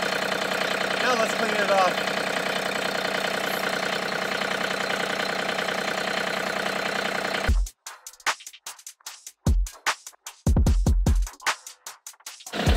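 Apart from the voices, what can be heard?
John Deere 3320 tractor engine idling after cold start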